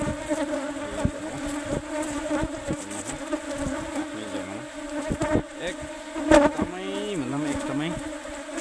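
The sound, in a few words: swarming honeybees buzzing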